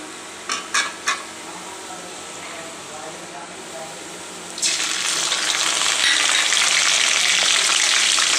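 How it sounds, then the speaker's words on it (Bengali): Ginger-garlic paste hits hot oil in a wok with fried onions, and a loud burst of steady sizzling takes over after a few faint utensil taps and a quieter stretch. "এখন দিয়ে দিচ্ছি"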